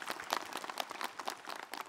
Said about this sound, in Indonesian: Tepuk tangan dong buat Ustadz Ahmad Khan